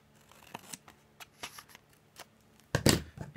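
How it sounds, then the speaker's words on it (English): Scissors snipping through a magazine page, a series of short crisp cuts and rustles that ends in a louder, fuller crunch of paper near the end, close and alone. "Let me just catch it with my scissors."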